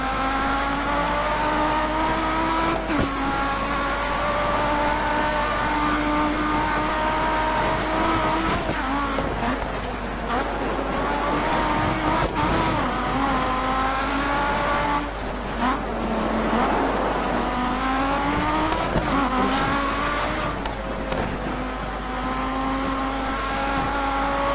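Rally car driven in Dirt 3, engine roaring loud and continuous with repeated rising and falling revs through gear changes, tires squealing and skidding at moments across the run.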